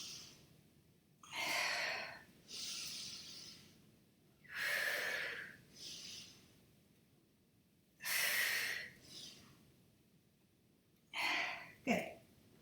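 Deep, forceful breaths during a yoga flow, taken alone in a quiet room: four long airy inhales and exhales come at a slow, even pace, with a short sharp breath near the end.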